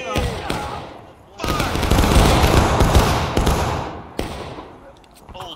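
Muskets fire a volley in the Civil War video game War of Rights: a quick crack, then a massed roar of many shots that rolls for several seconds, with a later pop and shouted voices.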